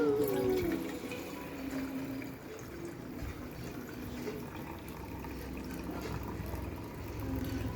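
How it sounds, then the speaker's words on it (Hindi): Water is poured in to make Maggi noodles without a gas stove, a steady close splashing and trickling that runs continuously and fairly loud, with no voices. "सब कुछ मैं गिराऊंगी पानी"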